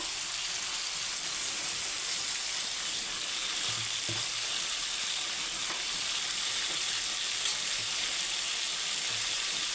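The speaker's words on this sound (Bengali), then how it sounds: "গ্যাসের মিডিয়াম আঁচ দিয়ে আমি এটাকে ভেজে নেব" Chicken meat frying in a pan over a medium gas flame, a steady close sizzle running throughout with a few faint clinks of a utensil, no talking.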